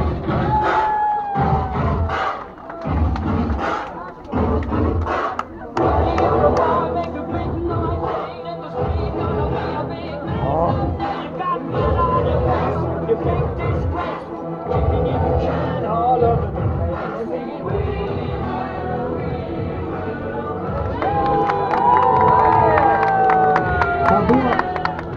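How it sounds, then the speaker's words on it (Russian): A large outdoor crowd claps and cheers at an awards ceremony at the 2017 Volga Cup horse races in Yadrinsky district, Chuvashia, sustained and loud with voices talking and calling out throughout. "Аплодисменты."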